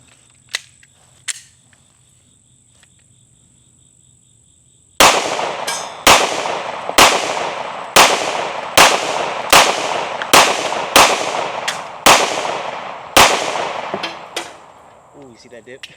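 An older Echelon 4.0C air gun fires about a dozen sharp, loud cracks at a steady pace of roughly one every second, coming after a quiet stretch with a couple of faint clicks.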